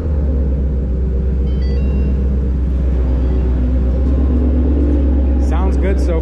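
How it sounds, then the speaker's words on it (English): Ford Mustang engine idling after an exhaust repair, car still partly on ramps: a loud, steady low rumble close by, with a brief higher squeak near the end. "but here we go for the startup."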